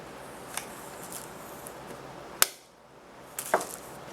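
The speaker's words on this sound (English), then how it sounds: "So we're going to cut in back of it." A Maryland blue crab shell being cut behind the membrane gives two sharp, close cracks, one midway and another near the end, over quiet background noise.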